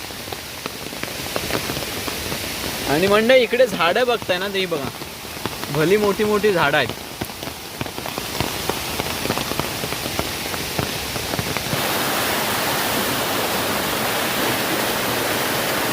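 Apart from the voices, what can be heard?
rain falling in forest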